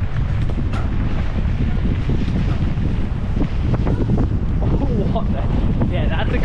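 Strong wind buffeting the microphone in a steady, loud rush with gusty low rumble throughout, outdoors at a gravity enduro mountain bike race near Margaret River, with a voice briefly audible underneath.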